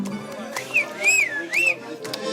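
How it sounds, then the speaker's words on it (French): A person whistles a short melodic phrase of rising and falling notes, close and clear, over a lively background at a folk music gathering during an apéritif. "Toi aussi tu siffles comme ça?"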